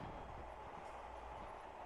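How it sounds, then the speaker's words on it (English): A train rolling along the tracks in a farming video game, a steady, faint rumble that holds level with no break. "train sounds awesome."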